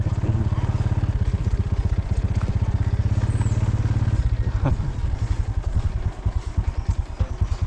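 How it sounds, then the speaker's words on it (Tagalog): A motorcycle engine chugs loud and close in a rapid, even idle pulse, then the rhythm loosens and slows toward the end, with brief voices in the background. "Di kaso dihang motor, Ben."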